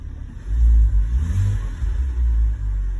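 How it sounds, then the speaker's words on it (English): A 2004 BMW X3 with a misfire runs nearby, a loud low rumbling idle with uneven surges and slight revving, no talking. "this is a 2004 BMW X3 with the complaint of misfire"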